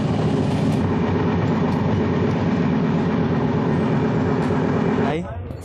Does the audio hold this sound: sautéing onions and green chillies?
no